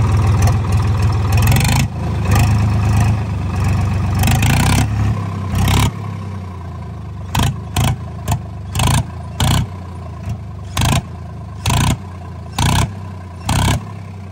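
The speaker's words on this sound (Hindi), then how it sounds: "बगैर साइलेंसर का आवाज मतलब बहुत ही खतरनाक आया यार।" Swaraj 963 FE tractor engine running with its silencer removed, a loud, harsh roar for several seconds that cuts out, followed by a series of short, sharp revving bursts at regular intervals.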